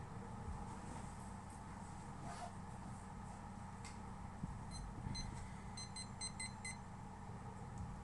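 A timer beeps in a quick series of short, high electronic tones near the end of a room with steady low hum, faint and brief against the background.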